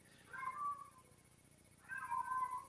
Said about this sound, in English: The 2 cats are outside wanting to be fed.